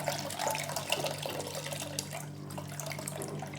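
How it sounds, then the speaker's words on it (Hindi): About a liter of water runs into a cooking pot in a kitchen, a steady, continuous splashing rush that stays even throughout with no talking. "एक बर्तन में 1 लीटर पानी डाल लेना है।"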